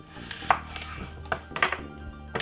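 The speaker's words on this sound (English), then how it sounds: "Sometimes I remove the skin from the ginger, sometimes I doesn't, but I'm just gonna remove the skin" A knife cuts the skin off fresh ginger, giving a few close, crisp taps and scrapes against a cutting board in an irregular rhythm.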